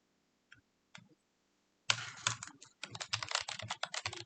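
Typing on a computer keyboard: two isolated key taps, then a quick, steady burst of close, crisp keystrokes continuing to the end.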